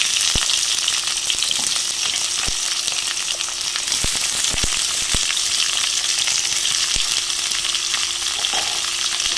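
Dried red chillies and sliced onions fry in hot oil in a pan for beef piralan, making a loud, continuous sizzle with occasional sharp clicks and taps from stirring.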